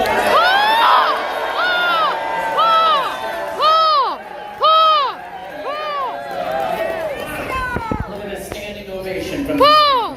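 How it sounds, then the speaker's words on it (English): Passengers on a dining showboat cheer and shout in loud, repeated whooping bursts, a lively crowd roaring in waves with some clapping underneath. "We judge it by how loud you clap, cheer, or even shout your server's name"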